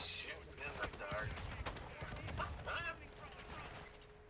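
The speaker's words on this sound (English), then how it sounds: "It's a grenade launcher." Gunfire and explosive bursts from a grenade launcher in the video game Modern Warfare II, a dense, busy layer of repeated shots and thuds running throughout, with people talking over the game sound.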